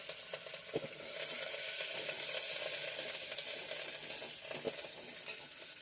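Dried red chillies and curry leaves spluttering in hot oil for homemade rasam, a soft continuous crackling sizzle with a few sharp pops, fairly quiet and close, no one talking.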